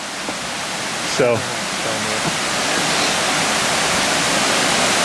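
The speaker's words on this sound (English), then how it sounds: "cool little waterfall." A small woodland waterfall on a hiking trail in Hickory Run, a steady broadband rush of falling water held at an even level throughout, with a brief spoken word and a short voice near the start over the flow.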